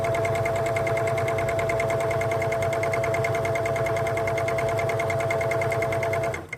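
A serger sews a rolled hem stitch in white thread on fabric for a play dress, running loud and steady with a fast, even mechanical whir that stops at the very end.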